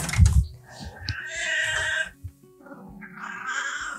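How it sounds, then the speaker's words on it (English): A cat meows loudly in long, drawn-out wails, two strained cries with a short break between them, close by and indoors. "My cat is screaming."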